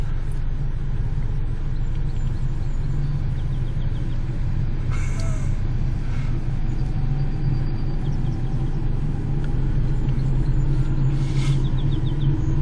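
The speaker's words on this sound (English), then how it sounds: "Foot's off the gas, off the brake, car's in neutral." A car coasting in neutral with foot off the gas and brake on a gravity hill, a steady low rumble of tires and body running continuously without engine revving, at an even level throughout.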